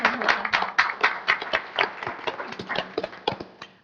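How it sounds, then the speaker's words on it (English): A small meeting audience at a county board of commissioners session gives a brief round of applause, scattered close claps from a few people tapering off over several seconds. "Are you waiting for a round of applause?"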